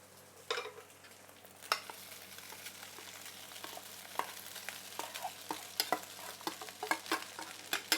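Rice tossed into a hot pan with setting egg and garlic oil for lap cheong fried rice, a steady sizzle broken by repeated scraping stirs and clacks of the spatula, close and alone with no talk.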